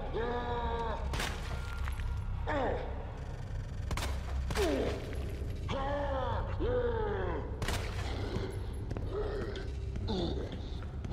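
Gunfire and blasts in the Resident Evil 2 Remake video game, with repeated sharp shots, one-off booms and creaking monster noises over a dense, steady game background, with a voice reacting in between.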